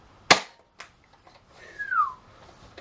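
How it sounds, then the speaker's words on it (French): Nerf Strongarm spring-powered toy blaster firing a foam dart: a sharp close snap, a fainter follow-up click, then a brief springy twang. "il fait un bruit de ressort quand on tire avec une fléchette"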